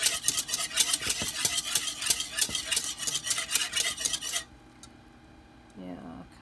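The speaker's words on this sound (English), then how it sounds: "while it's boiling I have to keep moving it" A spoon stirs boiling ham and pasta in a pot, giving a fast run of close, busy scraping and clinking. It stops abruptly partway through, leaving a quiet hiss and a brief voice at the end.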